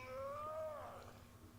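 A single drawn-out cat meow in the video game Mass Effect Andromeda, faint and somewhat distant, over a low background hum.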